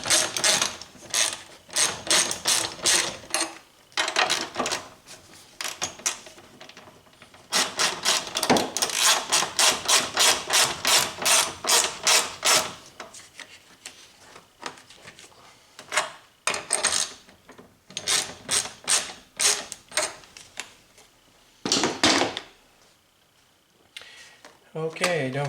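A hand ratchet tightens a bolt while a Honda Accord alternator is reinstalled, giving close, rapid clicking bursts that start and stop repeatedly, with short pauses between runs.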